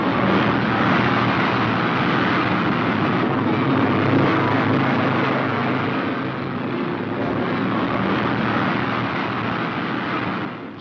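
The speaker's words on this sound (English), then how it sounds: "with a roar of small alcohol-fed engines," A dense, steady roar of several small alcohol-fueled racing engines running together at a dirt track race start, loud and continuous throughout, with no clear pauses.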